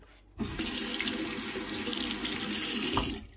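Water streams steadily from a tap into a cooking pot, starting abruptly and running as a constant splashing rush before tapering off.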